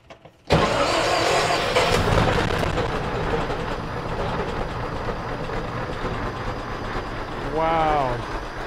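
A 1905 Mitchell D4 Roarabout engine cranks and catches abruptly after being choked, then settles into a loud, steady idle with a rough, rumbling chug; a brief voice is heard near the end.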